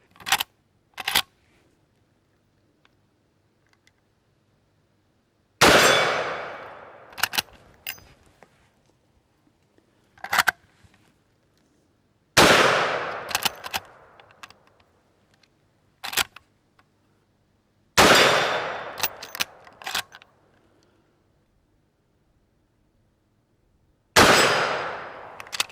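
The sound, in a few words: Winchester 94 rifle firing .357 Magnum rounds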